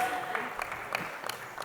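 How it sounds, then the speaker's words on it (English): Applause from the audience at a cricket draft ceremony, a short burst of scattered clapping heard fairly close, with a few sharper individual claps standing out and a faint voice beneath. "Let's give that a huge round of applause, please."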